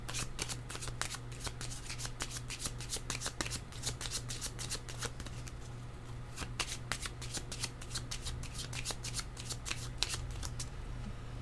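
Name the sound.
shuffling tarot cards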